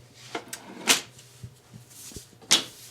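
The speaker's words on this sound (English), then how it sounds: "So I look in my fingerboard drawer, and I pull myself out a maple fingerboard." A wooden fingerboard drawer in an ukulele workshop is rummaged through as a maple fingerboard is pulled out, giving several soft knocks and sliding wooden clacks at irregular intervals, close and fairly quiet.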